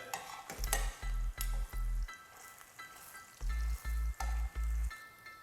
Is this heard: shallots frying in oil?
yes